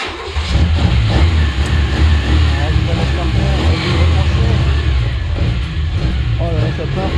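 An old Talbot Samba car engine rumbles loud and close, its uneven low drone wavering as it struggles to hold idle, with a voice talking over it.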